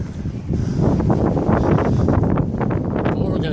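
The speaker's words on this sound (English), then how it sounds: "My apologies if it is a windy video, but that's the whole point, I guess." Strong windstorm gusts roar and buffet the microphone during a walk up to Saint Joseph Oratory, a loud continuous rush of wind filling the whole stretch.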